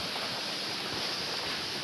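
Rushing water streams steadily along a forest trail leading to Ghonsari waterfall in Kankavli, Sindhudurg, a dense unbroken wash filling the short span.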